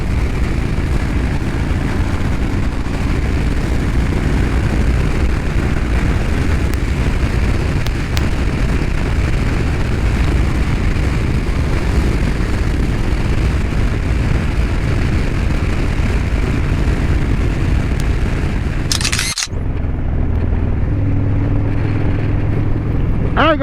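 A Harley-Davidson Street Bob fitted with a fairing cruises on the freeway, its engine and wind roar holding a steady, loud drone for about twenty seconds before cutting off abruptly.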